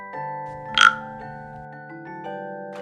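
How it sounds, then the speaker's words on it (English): A frog croak, a brief cartoon-style call, plays once as an animal sound in a children's learning clip, with a sustained tonal backdrop and no voice. "Frog."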